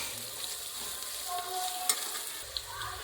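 Ginger garlic paste frying and being stirred in a pan on a medium flame while making veg pulao, a steady close sizzle with a couple of small scraping clicks, no talk.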